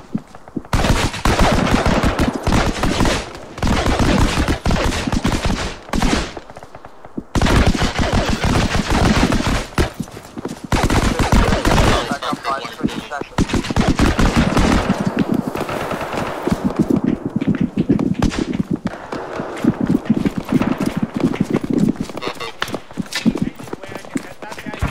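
Gunfire in the military shooter ARMA 3: loud, sustained bursts of automatic fire and single shots, rattling almost without pause under and between radio-style voice chatter.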